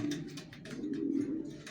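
A pair of racer pigeons coo softly, a low, throaty burbling repeated over a short stretch, faint and close with no other sound.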